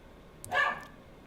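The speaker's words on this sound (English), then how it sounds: "the dog is barking a little bit" A single short dog bark, faint and somewhat distant in the background, with no voices around it.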